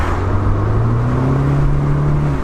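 A 2007 Saturn Sky Red Line turbo's dual exhaust gives a steady, low engine hum with a smooth drone that rises slightly in pitch, continuous and fairly loud throughout.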